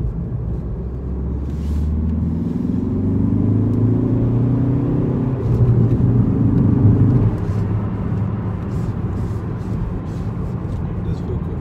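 A Mk3 Ford Focus ST diesel tuned to Pumaspeed Stage 1R cruising on the motorway, its steady low engine drone and road rumble rising briefly as it pulls harder, heard from inside the cabin with no one talking.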